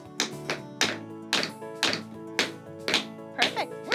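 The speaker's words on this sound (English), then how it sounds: "Put that leg out, don't let it move, but you tap your toe. Ooh, I love that sound." A tap shoe's toe strikes a floor again and again in a dance lesson, about nine sharp clicks in a steady rhythm, close and clear, each tap ringing briefly.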